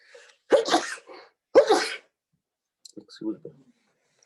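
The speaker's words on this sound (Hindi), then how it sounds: "Sir bless you." Two loud sneezes during a physics lecture on capacitor circuits, close and sharp about a second apart, followed by a brief quieter spoken remark.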